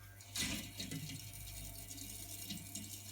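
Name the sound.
water flowing through washing machine solenoid valve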